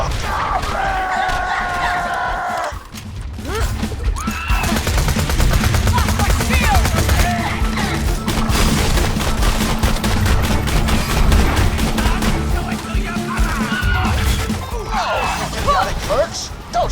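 Dense, sustained gunfire and crashing impacts fill a Borderlands 2 firefight, loud and continuous over a low rumble, with a voice talking over part of it.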